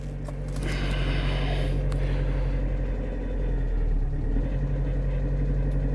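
A Lada Vesta with a 1.6 engine idles in minus 30 degree cold, giving a steady low rumble close by with a few brief knocks near the start.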